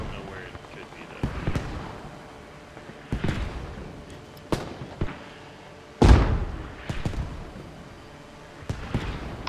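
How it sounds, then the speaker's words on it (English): Mortar shells land in a Ukraine war simulator game, a string of distant booms with uneven gaps between them, one hitting much harder than the rest, each followed by a short rumbling tail. "The mortars are still landing too far, by like 10 meters."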